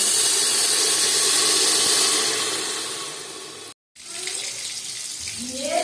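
Water pours hissing and splashing into a cooking pot for a fish and vegetable curry, loud and close, then cuts off before a softer bubbling and sizzling follows.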